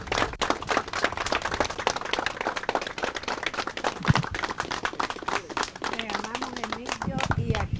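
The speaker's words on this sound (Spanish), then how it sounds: "Vamos a despedirlo con un aplauso" A crowd at a memorial tribute claps steadily and densely for several seconds, with voices heard among the applause.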